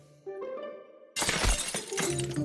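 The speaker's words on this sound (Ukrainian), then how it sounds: "то я розбив вікно" Window glass shatters with a loud, sudden crash in the Dark Riddle video game, following a quieter tonal stretch and leaving a scattered tail of debris.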